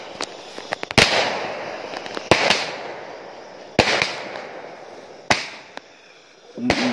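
Firecrackers set off at night in a village to scare away a tiger: five or six sharp loud bangs spaced irregularly, with crackling tails and a steady hiss of background noise between them.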